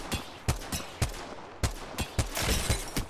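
Gunfire in the Apex Legends video game: sharp, loud shots in irregular bursts, about eight distinct cracks with short gaps, growing denser and more rapid toward the end.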